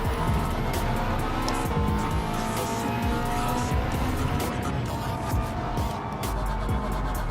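Race car in Gran Turismo 7 roaring loud and steady at high revs with repeated tire squeals and skids, a dense continuous engine wash throughout.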